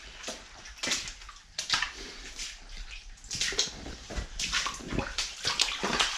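Water sloshes and splashes in bursts through a flooded abandoned chert mine in Derbyshire, uneven wading surges echoing close by in the enclosed space, with no talking.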